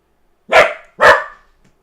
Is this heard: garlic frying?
no